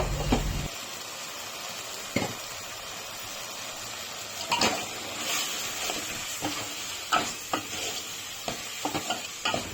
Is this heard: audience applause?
no